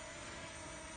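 A DJI Mavic drone in flight outdoors in Matsunaga, Japan, giving a steady, close, broadband propeller whine that stays constant through a brief moment with no talking.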